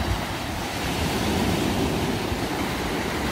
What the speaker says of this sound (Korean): 최대한 바다 가까이 가다 보니까 파도가 훅 밀려왔습니다.